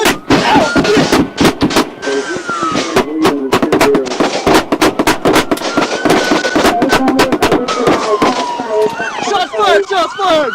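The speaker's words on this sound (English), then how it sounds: "Shots fired! Shots fired!" Rapid bursts of gunfire aimed at police officers during a domestic violence call, sharp repeated cracks spread throughout, mixed with a wailing siren tone and shouting voices close by.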